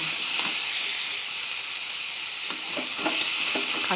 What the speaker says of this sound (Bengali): কড়াইয়ে তেল দিয়ে কাঁচা লঙ্কা, কালো জিরে আর একটা পেঁয়াজ দিয়ে দিয়েছি